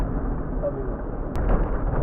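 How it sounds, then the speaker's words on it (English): A single sharp gunshot cracks once behind a vehicle, caught on a dashcam over a steady rumble of road and engine noise. "Alarmingly, a shot could be heard behind the vehicle,"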